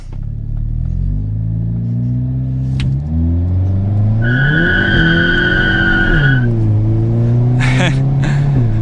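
A 2022 Hyundai Kona N in N mode launches hard under launch control: the engine revs climb in steps through the gears, with loud tire squeal and wheelspin rising over the close engine and exhaust roar.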